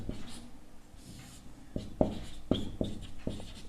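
Chalk or marker strokes on a classroom board during a maths lesson, a series of short scratchy taps and scrapes in an irregular rhythm, fairly quiet and close, with no voice over them.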